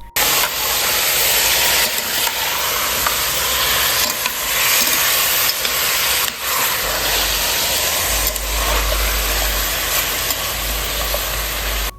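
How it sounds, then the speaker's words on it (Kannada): Chicken pieces with a teaspoon of turmeric powder fry in hot oil, giving a continuous loud sizzle with occasional stirring scrapes and a low background hum, no voices. "ಒನ್ ಟೀ ಸ್ಪೂನಷ್ಟು ಅರಿಶಿನ ಪುಡಿ ಹಾಕ್ಕೊಂಡು ಎಣ್ಣೆನಲ್ಲಿ ಚೆನ್ನಾಗಿ ಬಾಡಿಸ್ಕೊತೀನಿ ಚಿಕನ್ನ ಒಂದು ಮೂರ್ನಾಲ್ಕು ನಿಮಿಷದಷ್ಟು"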